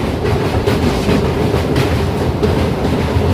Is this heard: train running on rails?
yes